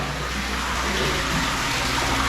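Hot spring water gushing steadily into an indoor bath, a continuous loud rushing flow with no breaks, close by.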